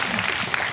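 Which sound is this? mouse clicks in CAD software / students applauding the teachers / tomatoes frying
students applauding the teachers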